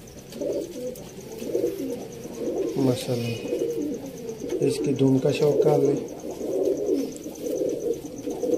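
Low, rolling pigeon coos running throughout, with someone talking over them.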